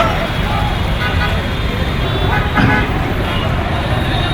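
A car creeps through a street protest rally in Mahbubnagar, its low engine and traffic rumble steady under loud crowd hubbub, with a brief horn toot and people talking nearby.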